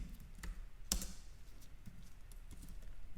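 Quiet computer keyboard typing: a few soft, scattered key clicks with one sharper tap near the start, close by in a quiet room.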